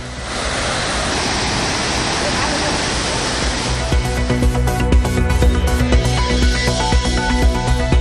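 A waterfall on the Kothai river in Kanyakumari district, flooded after heavy rain, roars as a steady, loud rush of water for about four seconds before music takes over.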